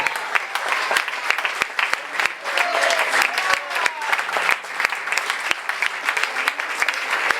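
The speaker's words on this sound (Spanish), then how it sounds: "dele un fuerte aplauso al Rey que vive" A church congregation at an anniversary service claps loudly and continuously, a dense sustained applause from a large crowd with scattered sharp individual claps, filling the whole stretch.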